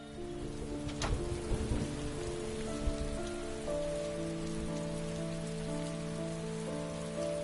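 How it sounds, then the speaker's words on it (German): Rain falling in the video game Heavy Rain, a steady, even patter on surfaces with low ambient tones droning beneath, and no voices. "Es regnet."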